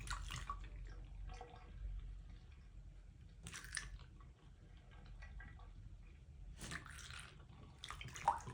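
Hot water runs into a badly clogged bathtub drain being treated with Drano Max Gel, giving a steady low rushing wash with brief brighter splashy bursts every few seconds.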